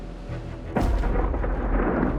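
Thunder from a bad storm over Florida's east coast breaks suddenly as a deep, heavy crack. It settles into a loud, sustained low rumble that continues to the end.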